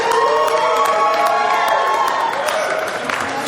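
An audience at a Negroni Week cocktail competition announcement cheers and whoops loudly, a dense crowd roar with high shouts and scattered clapping that tapers slightly toward the end.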